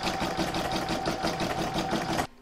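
Round 11 of a stitch-along bauble is quilted by an in-the-hoop embroidery machine, a close, steady whirring with fast rhythmic needle pulses running continuously until it stops abruptly near the end.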